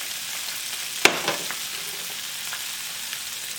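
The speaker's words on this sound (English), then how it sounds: "I'm gonna add my shrimp." Shrimp dropped into preheated oil in a non-stick pan hit with one sharp crackle, followed by a steady, loud broadband sizzle that continues close up without talk.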